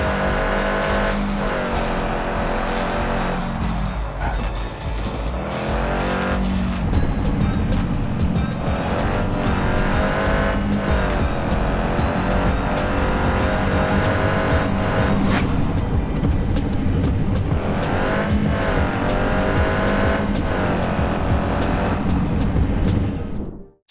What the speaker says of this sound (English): Online racing is a racing game with a focus on car customization and online competitions.